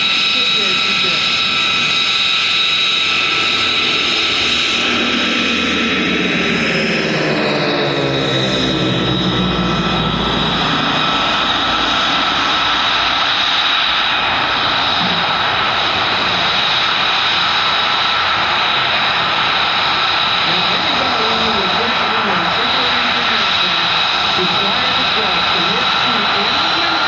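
A formation of aircraft flying a fingertip pass at the 2024 Greater Binghamton Airshow, a loud engine roar that sweeps past with a falling pitch and then a steady drone, with an announcer talking throughout.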